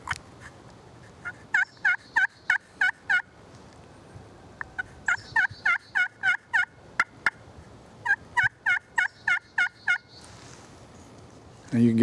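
Soft yelping from a hand-made turkey call striker, delivered in several quick rhythmic bursts of clear, nasal notes with short pauses between runs, close and moderately loud with no talking.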